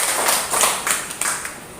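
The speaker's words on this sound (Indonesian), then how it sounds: "Tepuk tangan." A classroom of pupils clapping hands in a short burst of rapid, uneven claps, moderately loud and close, with no talk over it.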